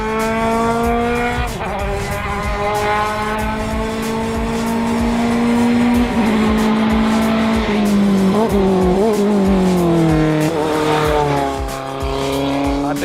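A PacificF2000 open-wheel race car on track during a test session, its engine loud and close, climbing and dropping in pitch through gear changes, with brief tire squeal.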